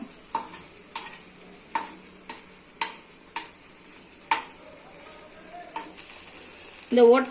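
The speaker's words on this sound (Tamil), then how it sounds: "நம்ம இதெல்லாம் கொஞ்சம் ஒரு நிமிஷத்துக்கு நல்லா வதக்கிப்போம் ஒட்டுக்க" Pav bhaji vegetables sauté in a hot pan, with repeated sharp clanks and scrapes of a spatula at a steady rhythm over a soft, continuous sizzle, close and moderately loud.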